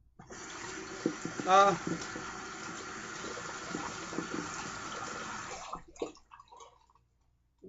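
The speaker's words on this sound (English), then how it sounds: "Let me wet my face and begin to shave." Water splashes and runs at a sink as a face is wetted before shaving, a steady close wash with a brief burst of louder splashing early on, a short grunt, then it falls quiet.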